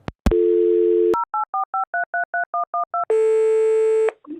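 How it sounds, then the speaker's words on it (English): On a phone line a steady dial tone plays, then a quick even string of about ten keypad beeps as a number is dialed from a virtual phone number, then a longer brighter tone, all loud and close with no talk. "I'm going to call her right now from my virtual phone number that she called earlier."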